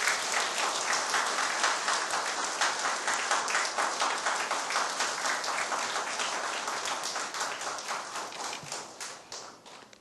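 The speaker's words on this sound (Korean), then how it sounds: "우리 큰 박수로 환영해 주시기 바랍니다." A church congregation applauds to welcome a visiting preacher at a one-day revival service, a dense, steady round of clapping from many hands that gradually thins and fades toward the end.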